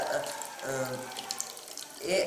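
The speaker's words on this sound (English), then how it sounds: "water is coming out from the straw" Water squirts out through a straw from a bottle in a science demonstration, pushed out by air pressure from a balloon inside. A close, steady splashing stream runs for about two seconds, with a faint voice in the background.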